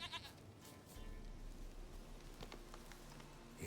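A goat in The Witcher 3 bleating a few times, a soft, thin bleat heard quietly on its own over faint ambient noise.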